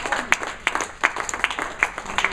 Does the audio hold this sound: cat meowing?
no